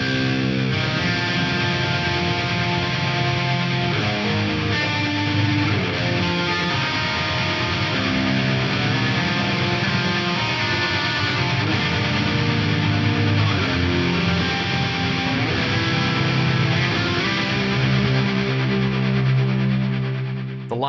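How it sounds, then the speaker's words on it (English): Loud distorted guitar washed in long, blooming ambient reverb with a very fast tremolo chopping it up, swelling and sustaining continuously, shimmering throughout with a steady effect-laden texture. "I get this big blooming ambient reverb with a very fast"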